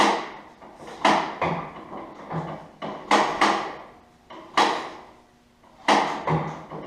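Hand-cranking the engine of a 1941 John Deere H tractor, long unused and low on compression, produces a series of hollow mechanical clunks about every second, each ringing briefly before fading, close and fairly loud.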